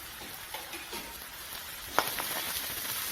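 Crushed ingredients sautéing in a pan for Kolhapuri misal pav, giving a steady soft sizzle with faint stirring scrapes and one sharper clink midway, close and fairly quiet.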